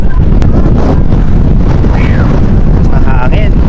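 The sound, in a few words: wind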